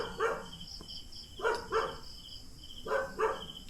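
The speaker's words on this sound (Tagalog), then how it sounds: "Ang ingay ng aso guys." A dog barks at night near an abandoned house in the mountains, three pairs of sharp barks spaced a second or so apart, with a steady insect drone behind them.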